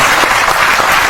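Audience clapping in a dense, steady burst, a brief wash of applause heard up close with no talk over it.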